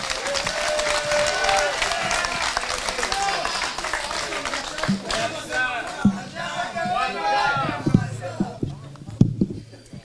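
A crowd at a political rally applauds and cheers loudly to welcome a candidate, with sustained clapping and shouting that thins into scattered claps, thumps and voices.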